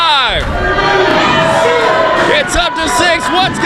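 A loud wrestling-event crowd cheers and shouts continuously at an indie show while a referee counts, with excited whoops rising over the steady roar.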